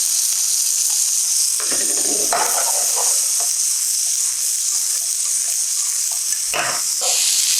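Mushrooms, bell pepper and onion sizzle steadily in a hot pan for a Napolitan recipe, a continuous bright frying hiss with a few louder bursts and soft stirring scrapes as the vegetables are moved.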